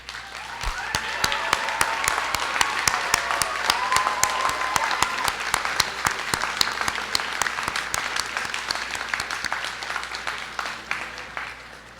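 A convocation audience applauds award recipients at the 2014 NSCC Marconi Campus ceremony, a sustained round of many hands clapping steadily throughout a large hall.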